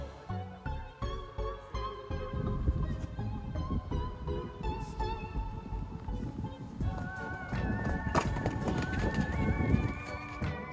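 A horse canters over jumps on a Halloween-decorated course, rapid rhythmic hoofbeats thudding steadily with a few louder impacts, while a voice talks over the galloping.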